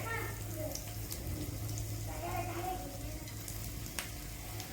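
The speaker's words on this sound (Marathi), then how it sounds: "आपण आता ह्याला तेलामध्ये शालो फ्राय करून घेऊ आपण।" Kothimbir vadi, coriander fritters with sesame, shallow frying in a few spoons of hot oil in a pan, a steady soft sizzle throughout with faint clinks, fairly quiet and close.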